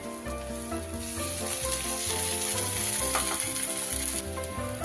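Green chili and poppy seed paste sizzles steadily in a hot pan, a continuous bright hiss that carries on under background music.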